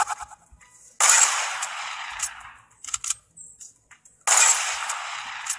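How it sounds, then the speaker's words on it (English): Two loud, sharp hunting rifle shots in Fortnite, each a single crack followed by a long decaying echo, separated by a few seconds of quiet clicks and handling noise. "Hunting rifle."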